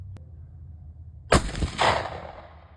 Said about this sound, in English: I'm gonna get one more shot to verify